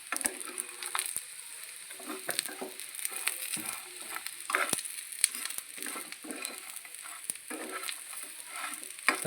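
Paneer fry being stirred in a pan on the stove after a pinch of salt, with a steady close sizzle and scattered scraping clicks of the spoon throughout.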